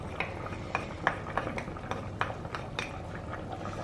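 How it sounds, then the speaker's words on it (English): Mashed potato being added to a zero-oil chicken and eggplant curry, soft wet plops and scraping clicks of a spoon against the pot, repeated irregularly over a low simmering background. "Now we will add this mashed potato here."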